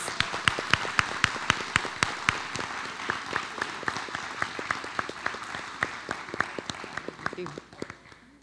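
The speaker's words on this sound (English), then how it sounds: "Let's give him a big round of applause" At a school board meeting, a smaller group gives applause with distinct individual claps ringing out in a steady rhythm over a softer bed of clapping, easing off at the end.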